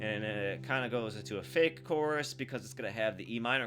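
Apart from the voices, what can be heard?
None of the usual background noises is heard.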